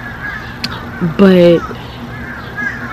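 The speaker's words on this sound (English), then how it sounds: "these birds are like literally talking over me" Outdoor birds call loudly, with a short caw and then a strong honking goose-like call, while a person talks in the foreground.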